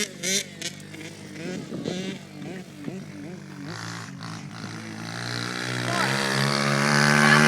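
A small pit bike motorcycle engine revs and rises in pitch, growing louder toward the end, with people talking over it outdoors.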